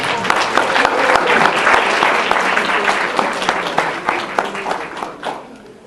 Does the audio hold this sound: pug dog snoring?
no